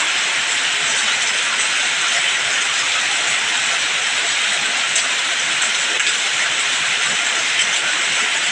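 Steady rain falls in a village in the afternoon, a dense, even hiss of drops on surfaces that holds unbroken throughout, with no voices.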